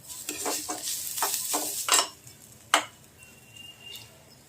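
Onion frying in a pan for chole paneer, a soft steady sizzle under several scraping strokes of a spoon stirring against the metal, close by, with no talk.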